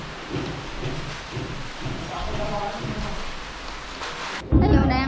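Steady rain hisses with low rumbling thunder rolling beneath it, ending in a sudden louder close rumble; faint voices may be present under the storm.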